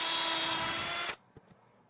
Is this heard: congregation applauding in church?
no